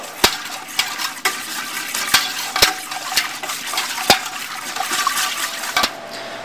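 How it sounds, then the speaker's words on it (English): A spoon stirs a pot of liquid on a stove, knocking against the sides in regular sharp taps over a constant watery swish, close and fairly loud. "So let's put this on the stove, stir it up, and get it onto a boil."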